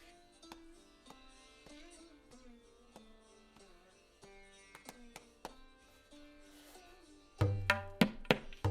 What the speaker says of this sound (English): Finally, we get to the quadruple speed, which sounds like this.